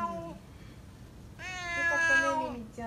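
An eight-year-old male black cat meows in a long, rising call after a brief earlier mew, close and clear in a quiet outdoor street setting in Nishi-Kamata, Ota, Tokyo.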